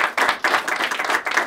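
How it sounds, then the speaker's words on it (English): An audience at a county awards presentation claps in a short, lively burst of applause, close and dense, without talk. "Can we give her another round of applause?"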